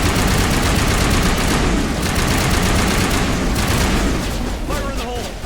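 Heavy gunfire in a Mass Effect firefight against Cerberus, dense overlapping bursts of shots and booms rolling continuously and loudly throughout, with a few short voice fragments near the end.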